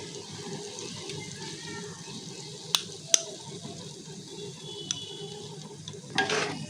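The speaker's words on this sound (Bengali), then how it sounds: "এরপরে ফেটিয়ে রাখা টক দইটা দিয়ে দেবো এর মধ্যে" Beaten sour yogurt going into katla fish frying in oil over a lowered flame, giving a soft steady stir and sizzle with a few sharp utensil clicks and a brief louder splash near the end, no talking.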